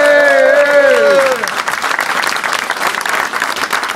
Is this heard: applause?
yes